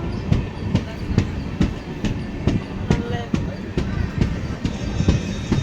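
A passenger train near Garividi railway station rolls at speed, its wheels beating a steady clickety-clack over rail joints with sharp repeated knocks and a continuous rumble, close and loud throughout.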